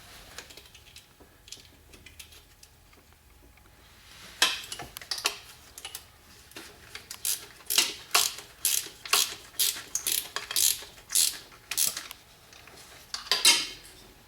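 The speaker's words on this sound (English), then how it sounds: "Take the 13mm wrench, tighten up your nut, or your bolt" A 13mm wrench tightens a bolt on a Polaris Slingshot cold air intake, a series of sharp metallic ratcheting clicks in quick bursts, close and fairly loud, after a quiet start.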